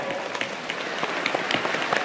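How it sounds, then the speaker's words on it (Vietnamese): Applause from a crowd, many hands clapping in a steady dense patter for a couple of seconds. "Give yourself a round of applause for guessing correctly."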